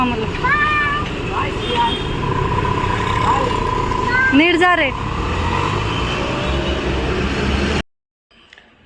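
An auto rickshaw pulls away on a street, its engine rumbling amid passing traffic and repeated horn toots. A voice calls out briefly before the sound cuts off near the end.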